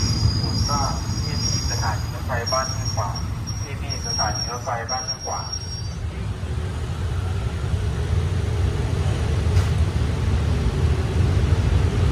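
A passenger train runs along a railway line in Thailand near Ban Huai Khwang, producing a steady loud rumble of wheels on track throughout. A voice talks briefly over it early on.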